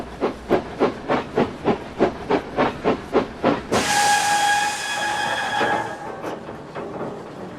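Steam engine Bert shunting: a steady run of rhythmic chuffs with a regular beat, then a sudden loud burst of steam hiss with a sustained whistle tone that fades out gradually.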